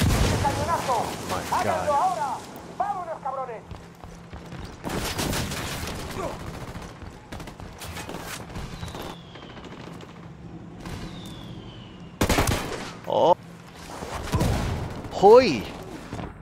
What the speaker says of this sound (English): Hit by the mortar